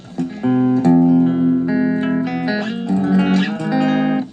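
A clean electric guitar rings out through a Fender Frontman 15W amp, a few strummed chords and picked notes sustaining smoothly, close and fairly loud.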